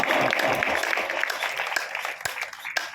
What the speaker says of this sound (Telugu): చప్పట్లు కొట్టు నిశ్చయముగా